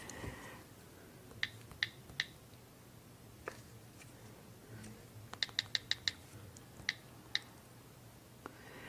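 Soft, light taps of an iPhone on-screen keyboard running iOS 5 while an email is typed, with scattered single clicks and a quick burst in the middle, faint and close in a quiet room.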